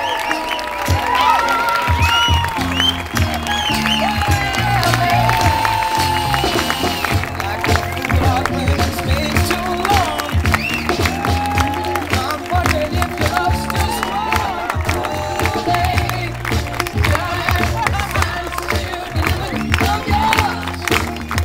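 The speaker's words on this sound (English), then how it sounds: "give a huge round of applause" Wedding guests break into sustained applause and cheering for the newlyweds, a dense crowd of clapping hands and whoops that stays loud from start to finish.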